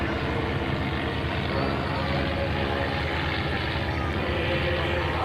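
Propeller-driven T-34 trainer aircraft fly overhead at an air fair in light turbulence, making a continuous loud engine drone that fills the whole stretch without a break.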